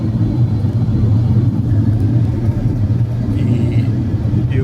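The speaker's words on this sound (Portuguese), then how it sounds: "Fui fazer uma viagem aqui de 150 km, estou na estrada." A 2010 Ford Fusion 2.5 cruises on a highway, giving a steady, loud low-frequency road and engine rumble with continuous tire noise and no distinct events throughout.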